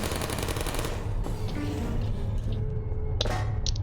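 Video game turrets let off rapid bursts of automatic gunfire, a dense rattling barrage that stays loud throughout and ends with a few sharper shots.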